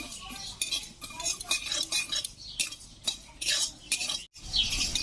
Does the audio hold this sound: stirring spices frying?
yes